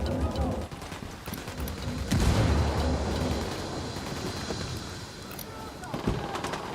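Grenade blast in the shooter game Tom Clancy's Ghost Recon Wildlands, a loud low boom standing out from a dense wash of ongoing gunfire and combat noise, with voices talking over the action.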